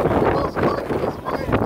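Strong wind gusts buffet the microphone in rough, uneven surges of low rumbling noise at an outdoor border rally.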